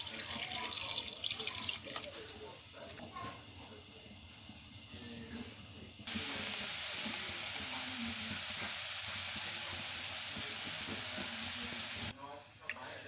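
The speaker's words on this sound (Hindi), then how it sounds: "और 1 कप पानी डाल दूँगी।" Water poured from a cup into jaggery to make syrup, heard as a steady broadband pour or sizzle lasting several seconds, close and fairly loud with kitchen clatter before and after.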